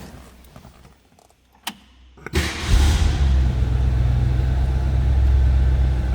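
A 1965 Ford Mustang convertible's 289 V8 with a Holley four-barrel carburetor: a few clicks and faint jingles, then the starter catches and the engine fires with a loud burst before settling into a steady, deep, rumbling idle that holds to the end.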